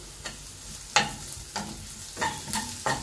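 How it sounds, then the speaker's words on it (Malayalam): Sliced onions and green chillies fry in a pan, with a constant sizzle broken by four or five distinct scraping strokes of a spatula, close and clear, with no voices. "സവാള ഇട്ടെടുക്കാം, അതിൽ പച്ചമുളക് ഇട്ടിട്ടുണ്ട്. ഈ സവാള ഒന്ന് വാടി വരട്ടെ."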